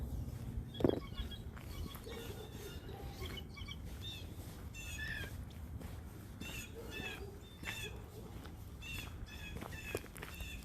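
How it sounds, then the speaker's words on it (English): Blue jays calling in woods near a small brook, with repeated short, harsh squawks and chirps scattered across the clip over a soft outdoor background. "I just hear the blue jays."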